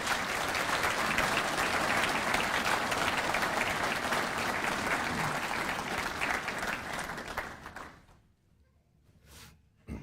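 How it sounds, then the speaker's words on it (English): Crowd applauding at a police academy graduation ceremony, sustained dense clapping that fades out after about eight seconds, followed by a faint thump. "I'd just like to ask for a round of applause for all these folks"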